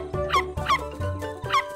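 An animated dog on an island gives three short, high yapping barks spaced evenly apart, close and alone without speech.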